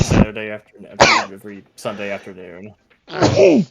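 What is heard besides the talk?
sneeze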